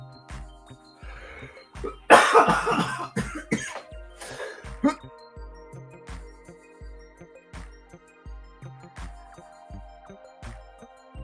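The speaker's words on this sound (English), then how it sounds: "cough's coming from that dab" A burst of harsh coughing from smoking a dab near the start, a few loud hacking coughs clustered together, over a steady rhythmic background hum.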